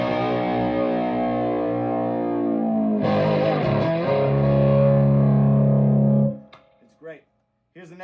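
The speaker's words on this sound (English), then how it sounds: "Here's the tape down pickup." An electric guitar on a tape-down pickup plays loud, heavily driven chords with a thick, sustained, gritty tone and a chord change midway, then cuts off as a brief voice follows.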